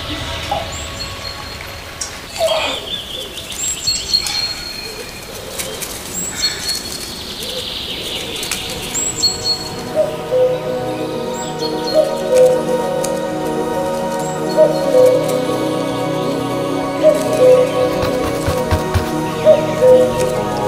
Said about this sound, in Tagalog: Ang ibon ay nagsimula ng umawit ng 7 awit.